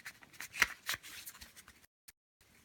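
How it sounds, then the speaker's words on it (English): Sushi Go Party game cards being shuffled by hand, a close, quiet run of crisp riffling snaps and slides lasting a couple of seconds before a brief silence and one last soft tap. "Give a really good shuffle again."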